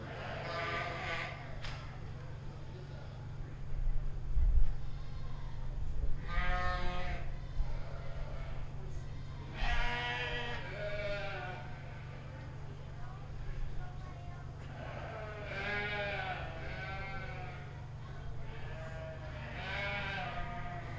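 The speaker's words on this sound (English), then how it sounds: "we're gonna bring both our blackface and our whiteface commercial ewes back into the lineup area and into the ring" Blackface and whiteface commercial ewes bleat repeatedly in the ring at a 4-H sheep and goat show, with several wavering calls spread over a low steady hum and a voice speaking now and then.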